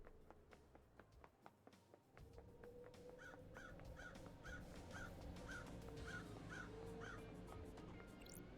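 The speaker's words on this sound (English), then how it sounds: "Oh, there's a bird. There are birds." Crows cawing in the Paradise Killer video game, a regular run of about ten caws spaced evenly over a soft ambient wash, preceded by light footstep clicks, faint and distant with no talk.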